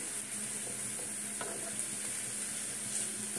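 A methi paratha with spring onion fries in oil in a pan, giving a steady close sizzle with a brief soft tap from the pan midway.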